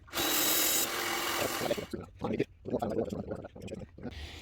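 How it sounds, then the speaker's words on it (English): Sandpaper rubs the edge of a Quick-Stud in short scratchy strokes, close and moderately loud, preceded by a brief steady whirring burst. "the sandpaper will fold over on both sides a little bit and round it off a little bit and smooth it out"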